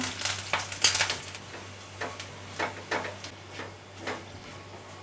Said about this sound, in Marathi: यामध्ये आपण जिरं घालूया त्यानंतर बारीक चिरलेली मिरची कढीपत्त्याची पानं थोडंसं मिक्स करून घेऊया